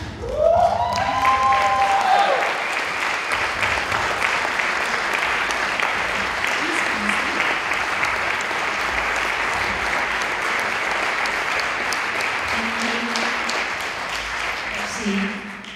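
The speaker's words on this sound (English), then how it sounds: "je vous demande d'applaudir chaleureusement Siti Kamaluddin, Ching-Chang" A festival cinema audience warmly applauds a film's guests, continuous dense clapping filling the hall for a long stretch, with brief voices and a spoken word or two at the start.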